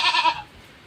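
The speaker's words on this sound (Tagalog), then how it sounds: "Ito po ay kambing ng tatay." A goat in labor gives a single loud, close bleat lasting under half a second, then falls quiet.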